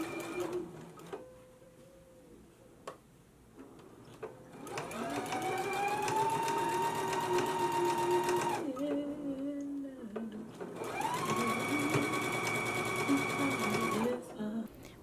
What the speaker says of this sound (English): And then we're going to go to the machine and stitch close to the fold.